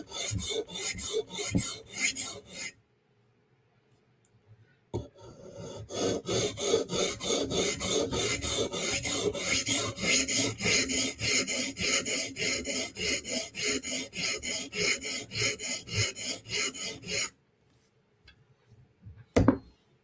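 A Steel Will flipper knife blade is stroked against a sharpening stone to raise a burr, giving a steady, close run of rhythmic rasping strokes that starts, pauses and then resumes for a long stretch.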